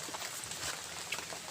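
Steady rain falls on a mountainside, a soft, even wash of close patter with no pauses and no voices.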